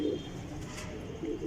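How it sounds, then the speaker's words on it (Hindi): Kasuri pigeons on a Lahore rooftop coo in low, soft, repeated murmurs that sit beneath steady outdoor background noise, with no talking heard. "ये भी भाई कसूरी कबूतर है।"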